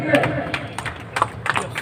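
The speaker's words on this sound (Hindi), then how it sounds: "जोरदार तालियां आपके लिए।" Scattered clapping rises from the audience at an outdoor statue unveiling ceremony for a freedom fighter, a few uneven bursts of hands under nearby talking and crowd murmur rather than a sustained ovation.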